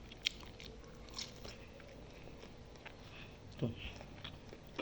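Someone eats a home-cooked chicken leg by hand, biting and chewing close to the microphone. Soft, irregular crunches and mouth noises come through at low volume, with a louder bite near the end and quiet speech in between.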